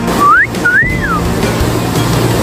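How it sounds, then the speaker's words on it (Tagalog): Steady broadband rush of water falling at Maranum Falls fills the clip, loud and continuous, with two sliding whistle-like tones near the start. "hanggang dito naririnig yung bagsak at agos ng tubig. Napakalakas."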